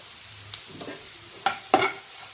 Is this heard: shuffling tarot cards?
no